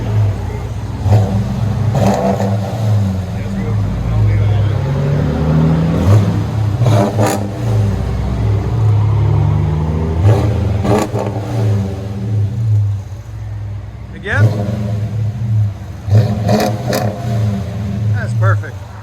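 Dodge Charger R/T 5.7L HEMI with a straight pipe exhaust, idling with a deep rumble and blipped through several loud revs that rise and fall, close up, with people talking over it.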